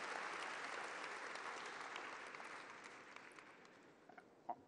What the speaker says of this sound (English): can we get one more round of applause for Brigadier General Stephen Cheney and the American Security Project?